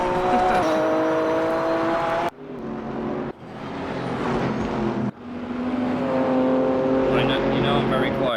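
A Ruf RT12 race car in the RaceRoom Racing Experience game revs hard, its loud engine climbing through gears with sharp cuts between shifts, and a voice talks over it at times.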